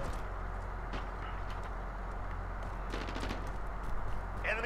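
Gunfire in a Call of Duty: Modern Warfare match, rapid shots crackling continuously against a dense battlefield din, with scattered sharper bursts standing out near the end.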